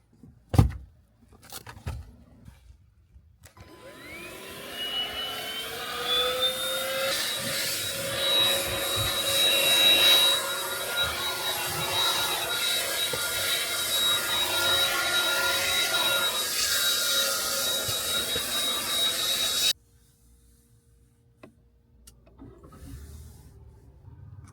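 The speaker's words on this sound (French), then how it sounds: "Vous avez vu comment l'aspirateur il est pourri?" A small, worn-out vacuum cleaner used for cleaning a car runs steadily for about sixteen seconds, loud and close with a whining motor tone and rough suction noise, after some brief handling clatter and before cutting off abruptly.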